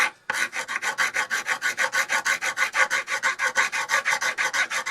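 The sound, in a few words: filing a power door lock part with a hand file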